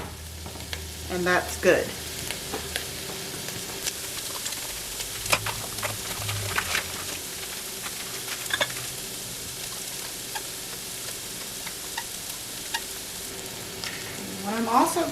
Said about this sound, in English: onion and garlic and just give it a stir, because you don't want that sticking to the bottom of your pot